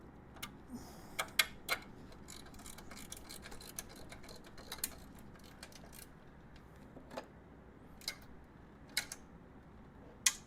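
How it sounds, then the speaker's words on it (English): A ratchet snugging a fork brace bolt on a Honda GL1500 Goldwing gives faint, scattered sharp clicks and ticks over a quiet background, irregularly spaced. "Take our ratchet."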